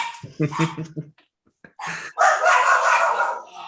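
Puppies bark in a quick burst of rhythmic yips nearby, followed by a short pause and then a louder, sustained rush of noise.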